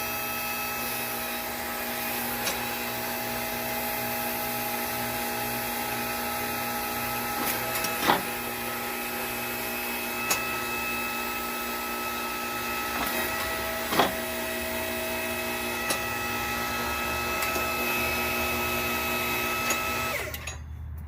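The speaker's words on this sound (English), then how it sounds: "turn the switch on, hydraulic pump's running" A hydraulic pump on a homemade forging press runs with a steady, close electric hum and whine, held level throughout, with a few brief knocks and clicks rising above it.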